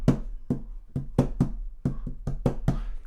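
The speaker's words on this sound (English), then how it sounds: "Get things from your kitchen, pots, pans, anything, a hairbrush, tap it." Household objects such as kitchen pots, pans or a hairbrush are tapped by hand in a quick, loose rhythm of about a dozen dull knocks, close and fairly quiet, with no speech.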